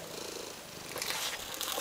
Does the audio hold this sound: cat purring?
yes